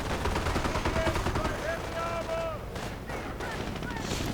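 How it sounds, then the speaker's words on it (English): Rapid auto cannon bursts from an armored car in a World War II strategy game, set amid dense ongoing battle noise with scattered gunfire, with a commentator talking over the action. "Unleashing auto cannon fire."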